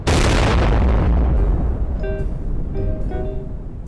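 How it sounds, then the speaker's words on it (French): A big explosion sound effect bursts loudly at the start and rolls into a long, decaying rumble, with faint ringing tones in the tail. "Alors cette grosse explosion"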